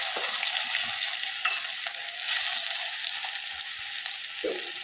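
Garlic and green chillies fry in hot oil and ghee, giving a steady, close sizzle with faint crackles and a brief stirring scrape near the end.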